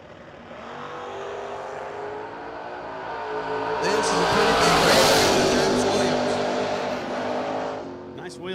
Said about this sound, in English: Coming down left side, beautiful little first-gen Camaro is Josh Ray